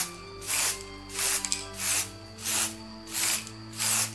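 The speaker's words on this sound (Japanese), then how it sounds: "徐々に上げるときに斜めにスプレーを噴射してあげます" Holts aerosol can paint sprayed in six short, evenly spaced bursts of close, steady hiss with brief pauses between them, applied at an angle to build a candy-red gradient finish.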